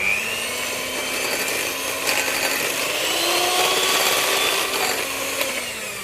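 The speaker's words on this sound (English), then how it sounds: "Take my electric hand whisk and just whisk all that together, very simple." An electric hand whisk beats a sherry and nutmeg mixture in a bowl, giving a steady high motor whine with a gently shifting pitch and a faint rattle as the beaters work.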